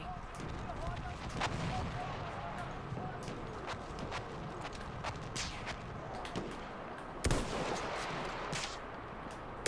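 Artillery fire and gunfire in the video game Battlefield 1, with irregular distant booms and sharp cracks scattered over a constant rumbling battlefield din, plus one louder close blast near the end.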